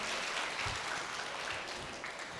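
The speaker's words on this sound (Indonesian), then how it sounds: "Tepuk tangan buat Kota Malang" Applause for the city of Malang at a Creative Talk event with the Indonesian creative economy minister: a large audience clapping steadily and densely, loud and continuous with no voices over it.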